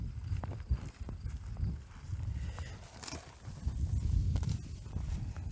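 A horse being led on foot outdoors, its hooves clip-clopping at a slow, uneven walking pace, close by over steady low background rumble.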